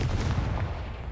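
A Confringo explosive spell cast in the video game Hogwarts Legacy: a dense, low, rumbling blast that keeps booming steadily for the whole moment, heard alone without speech.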